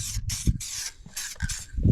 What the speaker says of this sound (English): So I spray the Lando black on here.